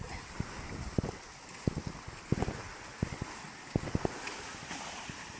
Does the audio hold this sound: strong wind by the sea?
yes